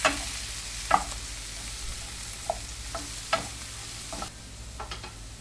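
Sprouted beans and onion being stirred in a pan, giving a steady low sizzle broken by several sharp scrapes of the spoon against the pan, spaced irregularly through the stretch.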